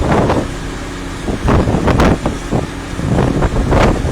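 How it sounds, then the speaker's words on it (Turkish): Strong gusting wind from a blizzard at Alacabel pass near Antalya, roaring in broad surges with near-zero visibility, the whoosh and buffeting swelling in several waves over a steady low rumble that may include passing road traffic. "Şu anda görüyorsunuz yoğun şekilde tipi var arkadaşlar Alacabel'de."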